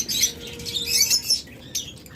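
Caged lovebirds, budgerigars and cockatiels at a bird farm chirp and squawk together in a busy, continuous chatter with bursts of high calls and some wing flutter. No one speaks.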